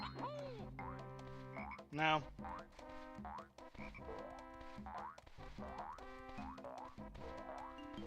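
A frog croaks repeatedly in Banjo Dreamie, a Banjo-Kazooie rom hack, its springy calls sounding over bouncy game music, with a brief spoken word amid the busy soundtrack.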